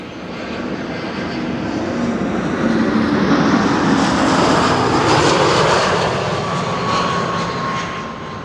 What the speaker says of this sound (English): Air Arabia Morocco flight 121 arriving from Nador in Morocco